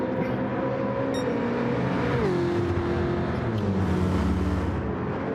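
V8 race cars in a sim racing game at Autodrome Lago Maggiore East, engines droning loudly and continuously with rising and falling revs as several cars run close together through a turn.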